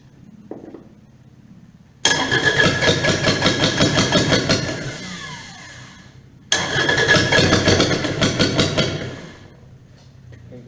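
Kubota D722 diesel engine after a pump install, cranking and catching twice, each time running loud and close with throttle for a few seconds before dropping off, the second run cutting out toward quiet at the end.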